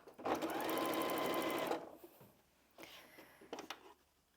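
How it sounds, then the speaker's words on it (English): Domestic sewing machine stitching a narrow piece of quilting fabric, a steady fast whirring burst of close stitching, then quiet handling and a short second run. "take them to the machine and sew those"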